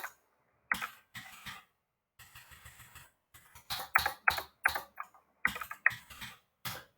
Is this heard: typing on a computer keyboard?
yes